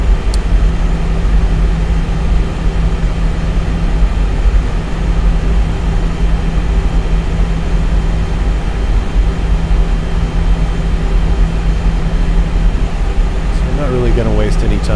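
Airbus A320 jet engines spool up for takeoff in the X-Plane 11 simulator, a dense steady roar and hum filling the whole clip with a spoken voice running over it.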